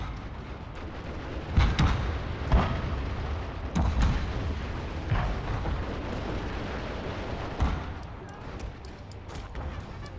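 Bursts of video game gunfire from a spear-type weapon in a turn-based battle, with several loud booming shots standing out against a steady rumble of distant combat and ongoing fire.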